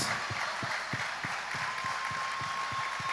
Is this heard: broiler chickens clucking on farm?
no